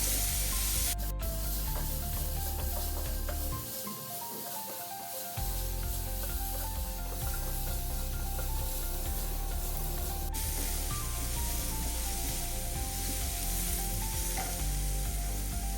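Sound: sautéing onions with salt for prawn roast

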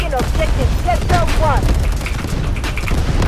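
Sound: gunfire in the video game Delta Force

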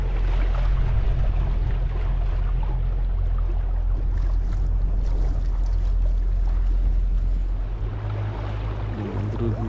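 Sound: boat moving on lake water

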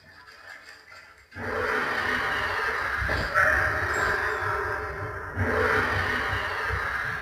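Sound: alien creature sounds in a video game

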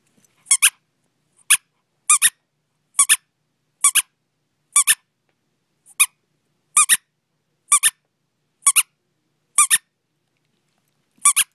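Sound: squeaky toy squeaking

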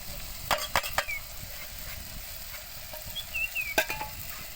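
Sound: spice masala sizzling in oil

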